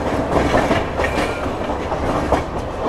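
A Humsafar Express just out of the station on a slight curve, its wheels clattering over rail joints in a steady clickety-clack beneath a constant loud rumble, heard close from on board.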